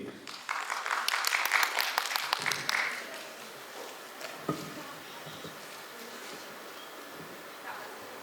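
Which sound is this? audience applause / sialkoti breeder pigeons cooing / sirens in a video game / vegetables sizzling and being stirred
audience applause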